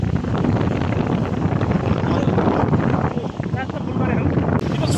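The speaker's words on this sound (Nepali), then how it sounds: "मजा सरर हावा छ" Wind buffets and rushes past while riding in the open back of a goods vehicle, a continuous loud roar with gusty swells, and people talk over it.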